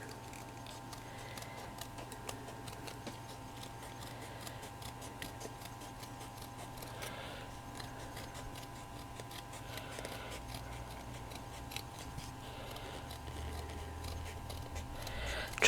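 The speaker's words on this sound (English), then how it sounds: "this is good chipboard. It's 2mm, so excellent. So I'm just going to cut that." Scissors work slowly through 2mm chipboard in faint, repeated small snips and crunches over a quiet steady hum, close by and without talk.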